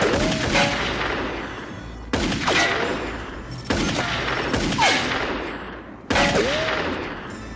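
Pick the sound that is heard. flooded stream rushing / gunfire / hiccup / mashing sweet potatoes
gunfire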